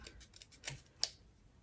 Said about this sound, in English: We're gonna take our scissors and just trim just a little bit